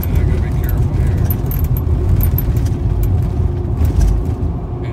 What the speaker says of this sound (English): driving on the 1 inch of ice, I gotta be careful here.